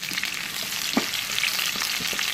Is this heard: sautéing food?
yes